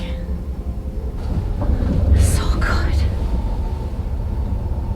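Steady low rumble of the Caledonian Sleeper train in motion, heard from inside a sleeper cabin, with a soft whispered voice briefly over it and some faint rattling.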